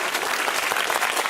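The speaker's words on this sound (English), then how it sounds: "That was very decent and generous of you to applaud at the end there" Studio audience applause closing a round of the quiz show University Challenge, a dense, steady clatter of many hands clapping close and loud throughout, with no talk over it.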